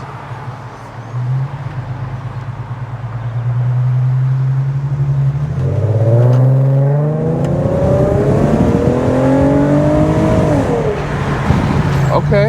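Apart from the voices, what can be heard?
Infiniti Q50 engine revving with Megan Racing Y-pipe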